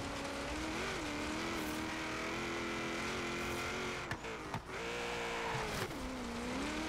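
Race car in Forza Horizon 3 revs with a steady, loud engine whine that climbs and falls, broken by a couple of quick gear shifts with brief drops in pitch and power, continuous and close throughout.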